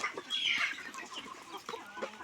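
Country chickens at a poultry farm of about 150 to 200 birds cluck steadily at moderate distance, with one louder, higher call early on over a busy flock murmur.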